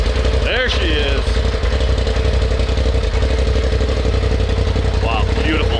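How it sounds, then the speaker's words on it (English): A big-turbo Polaris RZR Turbo S engine idles with a loud, steady low rumble. Near the start and again near the end there are brief vocal whoops or exclamations over it. "As usual, just idles, no problem."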